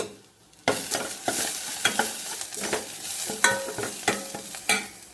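Sliced onions sizzle in a pan with turmeric powder, a steady hiss broken by repeated scraping stir strokes at irregular intervals, close and moderately loud, with no voices.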